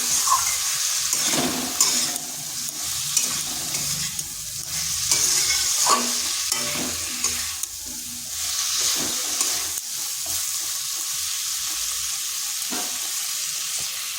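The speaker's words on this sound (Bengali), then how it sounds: "এবার কুমড়া আর আলু বেশ কিছুক্ষণ সময় ধরে কষে নিতে হবে।" Pumpkin and potato pieces fry in a spice mixture, a continuous close sizzle with regular scraping and knocking as a spatula stirs them around the pan, and no voices.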